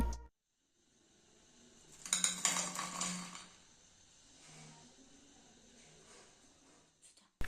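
Crispy fried mixed-vegetable pakoda set down on a plate, giving a burst of crunchy clattering and scraping against the dish for about a second, then softer rustling and light clinks that fade out, with no talk.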